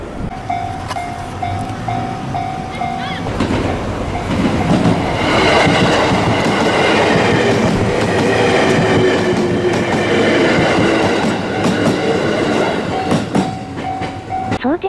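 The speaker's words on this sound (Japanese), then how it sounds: "相模線の上を小田急が、 走ってます。" An Odakyu train runs over the Sagami Line near Atsugi station in Kanagawa. The loud rumbling passage swells and fades over about ten seconds with a steady wheel roar and rail clatter. Short tonal chimes sound before and after the passing.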